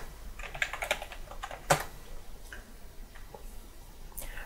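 A password is typed on a computer keyboard in a quiet run of light key clicks, with one sharper key strike near the middle and a few scattered taps after it.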